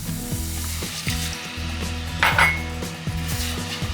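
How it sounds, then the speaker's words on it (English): Milk goes into a sizzling oil-and-flour roux for Hungarian mushroom soup and is stirred in the pot: a steady frying hiss with a short burst midway and spoon scrapes against the pot. "I'm going to add the milk."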